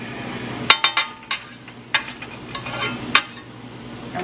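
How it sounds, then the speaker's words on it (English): A spoon stirs cream cheese into noodles in a pot, making sharp, scattered metallic clinks and taps against the pot with soft scraping between them, close and without talk. "I'm just going to stir that in"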